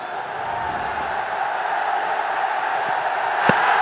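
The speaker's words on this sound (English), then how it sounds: "Excitement in the crowd" Crowd cheering excitedly at a cricket stadium during a BPL 2025 T20 match between Rangpur Riders and Chittagong Kings, a broad continuous roar slowly swelling, with a brief sharp clap near the end.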